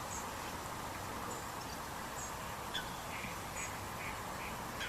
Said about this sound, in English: That's ducks quacking on the lake.